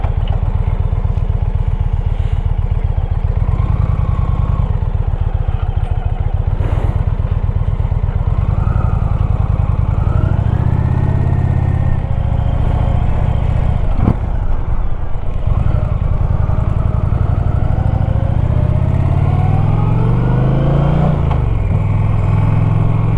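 Motorcycle cruising along Highway 1 toward Ely, a loud, steady engine drone with heavy wind rush, rising and falling slightly with gear changes, no talk.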